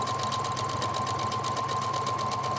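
A sewing machine stitches thin elastic tape onto a bikini bottom with a short back stitch to anchor it, a steady close mechanical whir with rapid needle chatter running continuously throughout.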